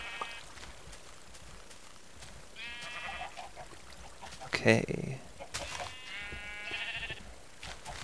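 Sheep bleat repeatedly in the Minecraft video game, several short synthetic bleats spread across the moment, with a brief thud midway and a voice speaking at a moderate level alongside.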